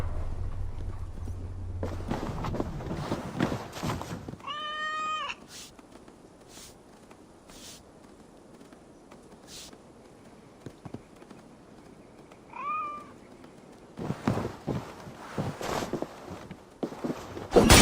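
Cats meowing in Assassin's Creed Valhalla, two distinct meows several seconds apart, rising and falling, over ambient game background with soft thuds and footsteps, no talking.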